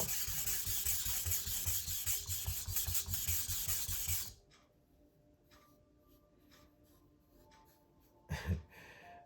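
A nakiri knife of AEB-L steel at 62 HRC being sharpened, with a steady, rhythmic rasping scrape of the blade across a stone for about four seconds, then near silence broken by faint scrapes and one short louder rub.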